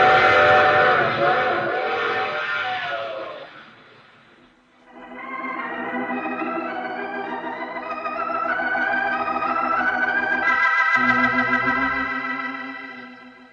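Train noise from a radio drama: a dense rumbling ride fades briefly, then returns with rising, sustained whistle-like tones that swell and hold loud over the rolling clatter, ending in a sudden cut.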